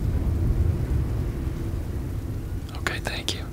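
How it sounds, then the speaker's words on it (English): A Texas thunderstorm at night: a continuous low rumble of thunder and rain fills the scene, with a soft whispering voice close by toward the end. "Will you stay up with me and we can wait out this Texas storm together?"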